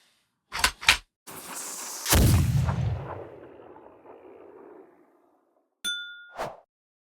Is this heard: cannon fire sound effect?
yes